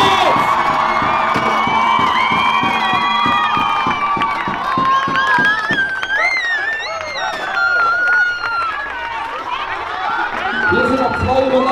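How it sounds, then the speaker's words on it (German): Crowd at a town festival contest where teams set up beer benches, cheering, shouting and whooping loudly with excited children's voices and busy babble throughout. "Weiterhin Applaus"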